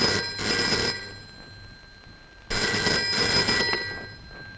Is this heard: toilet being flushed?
no